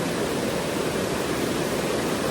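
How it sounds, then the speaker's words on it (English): A waterfall in Jamaica pours with a steady, dense rushing hiss, close and constant, with no voices over it. "the sounds of the waterfall are obviously beautiful"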